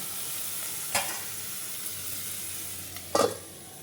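Pork curry sizzles steadily in a pan, a close, constant fry hiss broken by two sharper scrapes and clatters of stirring.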